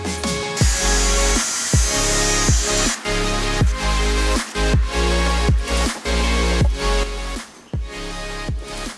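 A power saw cutting wood for a chicken coop, a loud whining motor with a rapid series of repeated shallow cuts, the blade biting and dropping off in a steady rhythm, close by.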